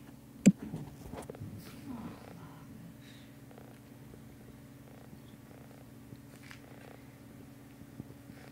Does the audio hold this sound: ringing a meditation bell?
no